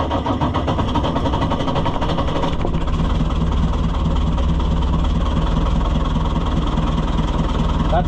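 A Snowy White 700 engine runs steadily at idle, a continuous mid-pitched mechanical drone with an even rhythmic pulse, loud and close throughout with no talk over it.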